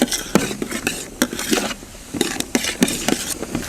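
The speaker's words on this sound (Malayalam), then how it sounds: "അപ്പോൾ ഉള്ളി ഒന്ന് നന്നായി വണക്കിയെടുക്കാം" Onions sautéing in butter in a pan, with sharp clinks and scrapes of a spoon stirring at irregular intervals over a soft background sizzle, close and moderately loud, no voices.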